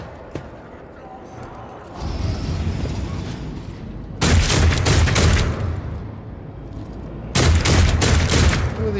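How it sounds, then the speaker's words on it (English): Gunfire in the video game Warhammer 40,000: Rogue Trader arrives as two loud, dense volleys of rapid shots several seconds apart, over a steady low rumble of battle ambience. "Who are they shooting at?"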